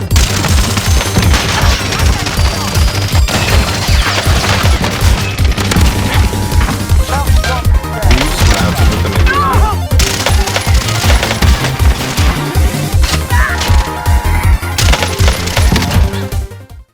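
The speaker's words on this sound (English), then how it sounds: "These are the Sykovs." Sykov pistols fired akimbo in a video game, a dense, continuous stream of rapid booming shots with heavy low-end thump rolling nonstop for the whole stretch, loud and close with no talking.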